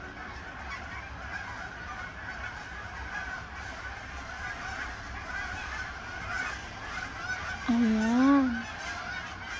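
Migrating geese give a couple of loud nasal honks near the end, rising clearly over a steady outdoor background rumble, with a voice briefly heard.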